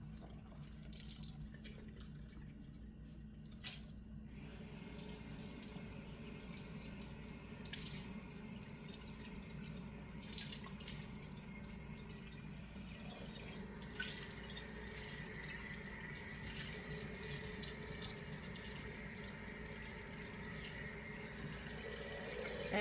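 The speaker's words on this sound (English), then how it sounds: "Just from the tap, no hotter than that." Hot tap water running into a glass jar for a yogurt culture, a steady, quiet, continuous flow with light splashing and a few faint knocks early on.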